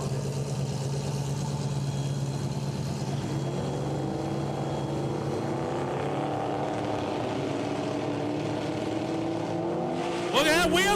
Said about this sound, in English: Here goes the Viper, picking up the front wheels.